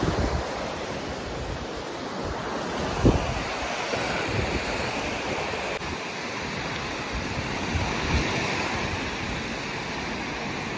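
Sea surf rolls onto the shore in a steady wash of breaking waves, mixed with gusty wind buffeting the microphone, continuous and fairly loud with no talking.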